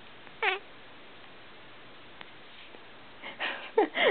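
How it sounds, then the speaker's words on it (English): A cat lets out a short meow, then after a quiet stretch gives several more rising meows and chirps in quick succession, faint and close, while someone sings the nursery song Old MacDonald. "Good cat. Some good singing."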